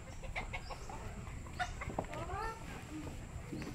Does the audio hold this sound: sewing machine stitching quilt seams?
no